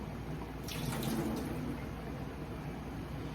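Tap water runs steadily as sweet potato leaves are rinsed in a kitchen sink, a faint, even splash with a brief brighter burst of water near the start.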